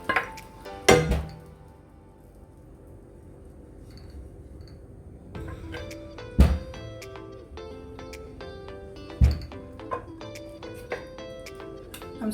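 Cooked chicken pieces going into a pan of tikka masala gravy, with several sharp clinks and scrapes of utensils against the pan and a soft, steady background hum between them.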